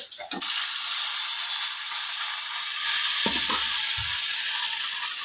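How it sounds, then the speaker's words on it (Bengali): Fish frying in a pan gives a steady, continuous sizzle throughout, with a few brief clatters of a utensil against the pan near the start and toward the end. "কয়েকটা মাছ ভেজে ফেলেছি আর কয়েকটা রয়েছে খুব ভেজে নেবো এবার"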